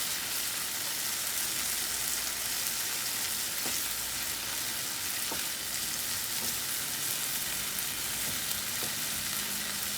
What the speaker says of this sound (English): you see it's frying so fast